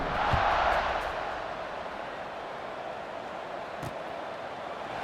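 A football stadium crowd at Fresno State versus Boise State before kickoff, heard as a broad, distant-sounding roar that swells briefly at the start and then settles into a steady murmur.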